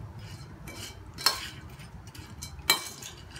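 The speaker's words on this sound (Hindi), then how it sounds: "इन सब चीजों को मिक्स कर देंगे।" Chaat spices and ingredients are mixed in a bowl. Two sharp metallic clinks of a spoon against the bowl stand out over soft, quiet stirring, close by.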